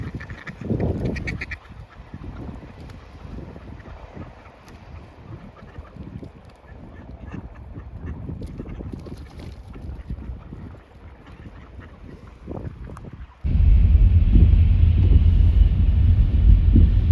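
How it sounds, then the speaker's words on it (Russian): Several ducks quack and honk intermittently nearby over outdoor noise, then a loud, steady rumble takes over near the end. "Отряд уточек."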